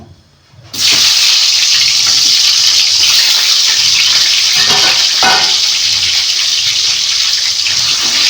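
Tomatoes drop into hot oil for a ridge gourd peel chutney. After a brief quiet moment a loud, close sizzle erupts and then holds as a dense, continuous hiss, with slight stirring variations.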